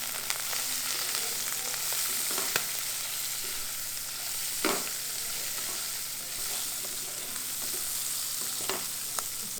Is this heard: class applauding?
no